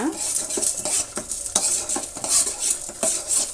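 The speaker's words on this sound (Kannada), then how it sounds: "ಉದ್ದಿನ ಬೇಳೆ ಒಂದು ಎರಡು ಸ್ಪೂನು ಕಡಲೆಬೇಳೆ ಒಂದೆರಡು ಸ್ಪೂನಷ್ಟು ಹಾಕ್ತಾಯಿದ್ದೀನಿ ಎರಡನ್ನೂ ಮಿಕ್ಸು ಫ್ರೈ ಮಾಡೋಣ" Urad dal and chana dal stirred and fried in a pan for chutney, a spoon or spatula scraping and clinking against the metal in quick irregular strokes, close and fairly loud with a faint sizzle beneath.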